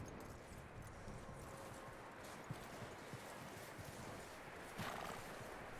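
A horse in the video game Red Dead Redemption 2 whinnies while its hooves clop in a loose, uneven rhythm, set against a steady wash of outdoor ambience.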